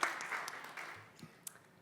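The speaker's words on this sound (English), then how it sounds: "Let's give a round of applause to Annija." An audience at a startup pitching event applauds a speaker, a short, fairly faint burst of clapping that tapers off over about two seconds.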